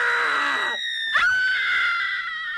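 A woman's sustained high-pitched scream in a film scene, loud and close. It breaks briefly in the middle, then carries on as one long wavering shriek.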